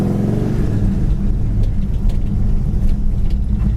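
A 1964 Pontiac GTO with a four-speed manual being driven, its engine giving a deep, loud, continuous rumble heard close up from inside, with no voices.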